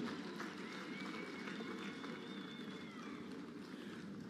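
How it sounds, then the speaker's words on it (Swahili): An audience claps for an investor at a factory event, a steady wash of applause from many hands, moderately distant and sustained without pause. "Jamani, naomba tumpigie makofi"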